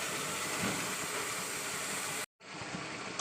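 Chopped ridge gourd hits a pan of fried, spiced potatoes, giving a steady, loud, broad sizzling hiss that cuts out for a moment and then carries on.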